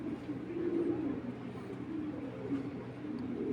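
Racing pigeons of a fast, top-ten result bloodline coo continuously in a loft, their low, throaty warbling rising and falling close to the microphone.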